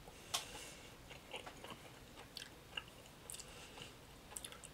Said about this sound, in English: Just chewing my gummy.